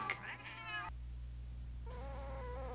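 A cat meows in a drawn-out, wavering cry for almost a second, falls silent under a low steady hum, then gives a second, flatter meow near the end, fairly close and clear.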